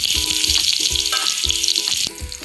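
Drumstick pods and ginger-garlic paste fry in a little hot oil with mustard seeds and cumin, a loud, close, continuous sizzle broken by regular clunks and scrapes of stirring, with no talk.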